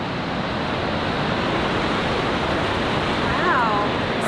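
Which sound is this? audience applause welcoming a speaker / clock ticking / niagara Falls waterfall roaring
niagara Falls waterfall roaring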